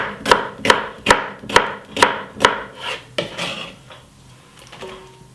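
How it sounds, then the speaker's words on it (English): A knife chops through red, yellow and green bell peppers on a board, about ten crisp, evenly spaced cuts that fade as the rhythm slows, close and loud with no talking. "All I need to do is cut them up."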